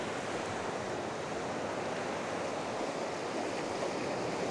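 Sea surf and gusting wind on a cool, breezy Latvian seaside, a steady broadband wash of breaking waves with wind buffeting the microphone throughout, no voices.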